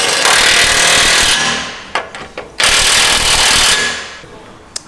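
A powered torque tool tightens bolts while fitting the front bumper of a custom SEMA show truck, running in loud, sustained rattling bursts close by with brief pauses and clanks between them.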